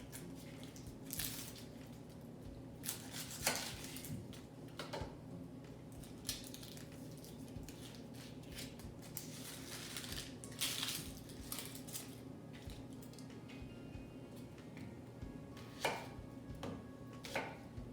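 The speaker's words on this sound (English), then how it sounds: "Get this all chopped up." Knife dicing an onion finely on a cutting board, with a run of quiet, irregular chopping taps spread through the passage alongside faint kitchen clatter, close by and without speech.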